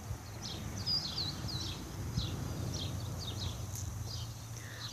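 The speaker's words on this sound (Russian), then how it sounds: "Здесь так тихо. Вы можете слышать, птички поют." Small birds sing on a quiet residential street in Arizona, with repeated high chirps and short trills over a soft, steady background hum, moderately distant and faint.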